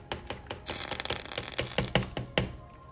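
Extra-firm tofu pieces tipped from a kitchen scale into a pan, a quick series of sharp taps and clatters landing in rapid succession, close and fairly loud.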